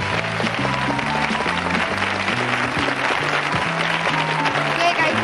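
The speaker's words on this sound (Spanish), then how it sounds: "un fuerte aplauso para Teresa y para Luis" Sustained studio audience applause on a 1982 Spanish television game show, a dense steady wash of clapping with music tones playing underneath throughout.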